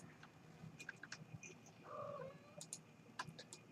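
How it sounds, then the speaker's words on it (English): A house cat meowing for attention: a single short, faint meow midway through, amid quiet ticking and clicking sounds and low room noise. "You can tell my cat is very kind of upset here because, yeah, someone wants attention and love."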